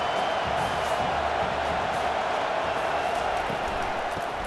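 Stadium crowd at a Tennessee Volunteers versus Georgia Bulldogs college football game, a steady loud roar of cheering and noise that fills the whole stretch without letup.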